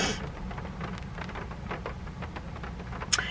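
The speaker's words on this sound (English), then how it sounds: "Oh, here comes the rain!" Rain falling outside a superstore, a steady patter of drops across the whole stretch with scattered louder splats and one sharp tap near the end, fairly close and alone with no talk.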